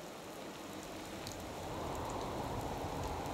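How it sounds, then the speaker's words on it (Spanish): Steady rain pours in the post-apocalyptic world of the video game Fallout 4, a continuous hiss of falling water that swells slightly louder midway, heard alone with no voices. "Ah, está lloviendo."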